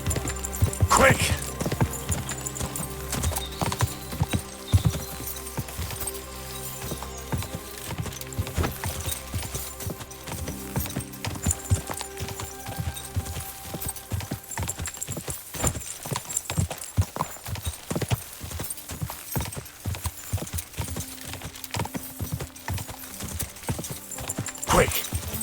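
A horse galloping in Kingdom Come: Deliverance II, rapid hoofbeats with a possible whinny, loud and close at first then steady under game music, with voices speaking at times.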